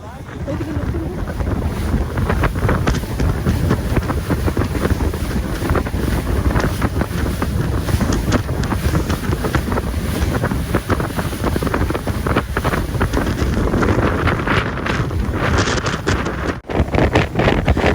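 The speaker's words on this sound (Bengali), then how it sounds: "তো দেখতেই পাচ্ছ কেমন স্পিডে আসছে বোটটা" A speedboat races across the open sea, its engine roar blending with heavy wind buffeting and water rush, loud and constant from on board.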